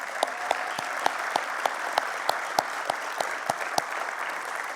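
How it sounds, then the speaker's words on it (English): An audience at a university alumni awards ceremony gives steady applause, a dense wash of many hands. A few louder individual claps stand out at regular intervals, heard from a moderate distance. "Please give a warm round of applause for those returning honorees this evening."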